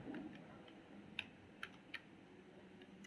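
A command typed on a computer keyboard, a few quiet, sparse key clicks spaced apart over a soft background hum, with no speech.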